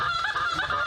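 Snow geese honk during a goose hunt, a dense overlapping chorus of loud nasal calls from several birds, clear and close over a short stretch.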